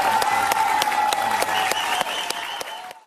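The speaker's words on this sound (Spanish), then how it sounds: "pido un aplauso para él, por favor" An audience applauds together, a full, steady round of clapping with a few sharp individual claps standing out and a faint tone underneath, cutting off abruptly at the end.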